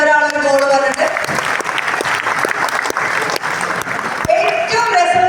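An audience applauds at a talk, dense clapping rising and holding steady, with a voice and tonal sounds over the start and end.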